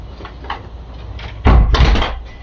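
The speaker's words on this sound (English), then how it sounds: "I'm gonna close that door." An interior bedroom door is pushed shut, giving a single solid thud with a short rattle of the latch, close and fairly loud, followed by a brief shuffle and room noise.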